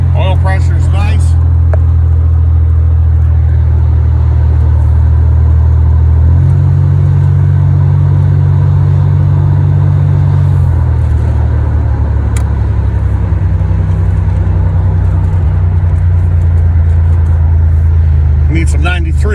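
Buick Grand National with a new engine driving, a loud, steady low engine drone heard from inside the car with shifts in pitch as it changes speed, continuous throughout.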